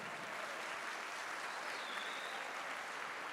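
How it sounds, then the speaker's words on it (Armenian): Wedding guests at an Armenian wedding applaud loudly for the mothers, a dense, sustained wash of clapping throughout with no voices on top. "ուզում եմ մի հատ բարձր ծափարենք միայն մամաների համար"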